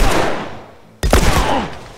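Gunshots in the video game The Last of Us, on PS4: two loud, heavy blasts about a second apart, each with a booming tail that fades away.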